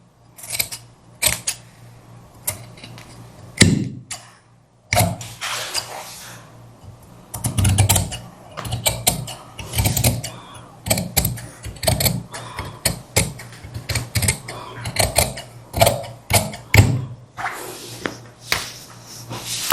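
Scissors cut fabric for a kurti in a long run of crisp, irregular snips and clicks at close range, close together with brief pauses, and no talking.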